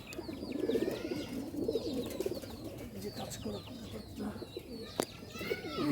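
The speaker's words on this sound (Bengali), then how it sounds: "দেখতেই পারছেন এইসব কবুতর সারাদিন উঠবে বন্ধুরা" Pigeons coo softly and repeatedly in the background, their low, rolling calls fairly faint and mixed with a few higher chirps and light ambient noise.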